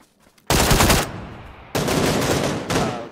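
Gunfire in the video game PUBG, two loud, close bursts of automatic fire, each about a second long, followed by the start of a third, with no talking.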